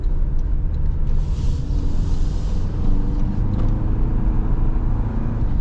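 A 2025 Toyota 4Runner TRD Off-Road on 35-inch tires accelerates from inside the cab, a steady, loud engine drone mixed with road rumble and no talking.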